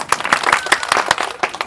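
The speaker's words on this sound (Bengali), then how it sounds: "ইনার জন্য একটা জোরে একটা হাততালি" Close, dense clapping from a small village crowd applauding a game contestant, a brisk burst of uneven hand claps over a short moment.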